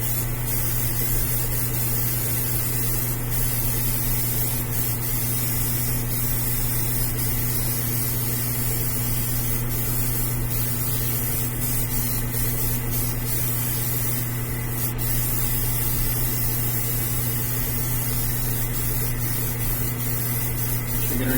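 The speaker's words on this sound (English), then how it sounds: "You can see with this Grex airbrush," A Grex airbrush sprays paint onto a 1/4-scale Beast prototype model, giving a steady, continuous hiss over a constant compressor hum that runs unbroken from start to finish.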